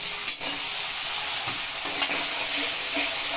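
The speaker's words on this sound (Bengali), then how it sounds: "দেওয়ার পর মশলাটা আমি ভালো করে কষাবো।" A spice paste of coriander, chilli powder, Kashmiri chilli and turmeric sizzles steadily in a pan for a Bengali cauliflower-and-prawn dish, with a few soft scraping stirs over the constant frying hiss.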